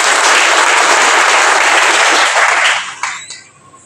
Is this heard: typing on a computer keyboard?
no